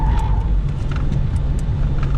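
A drag racing school car loops an oval around traffic cones at a steady pace, its engine giving a continuous low rumble with a close, even drone throughout.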